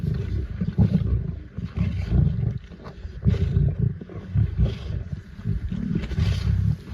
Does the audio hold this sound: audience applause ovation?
no